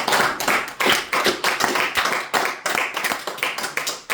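A church congregation claps together in a steady, quick rhythm, a run of sharp hand claps close by with no voices over them.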